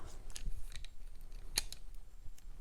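Scissors snip several times up close, quick dry clicks scattered irregularly over a quiet background.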